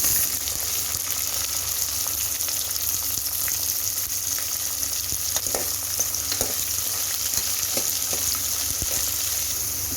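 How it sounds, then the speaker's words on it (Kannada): Peas fry with onions in a pan for spinach pulao, a steady close sizzle with occasional stirring scrapes and pops, no voices. "ಬಟಾಣಿನ ಹಾಕೊಂಡು ಒಂದು 5 ನಿಮಿಷ ಬಾಡಿಸ್ಕೊಳ್ಳಿ ಚೆನ್ನಾಗಿ."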